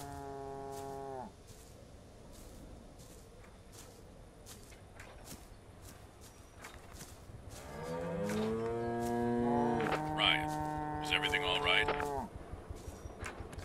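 Cows moo in the video game Greyhill Incident: long, loud, drawn-out calls, one at the start and a cluster of overlapping moos near the end, over a low ambient background.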